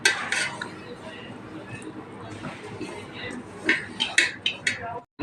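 Tart hog plum is mixed with chili, coriander and lime juice in a bowl, giving soft stirring scrapes and then a run of sharp utensil clinks near the end, under low talk.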